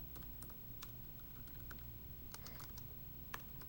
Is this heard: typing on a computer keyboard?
yes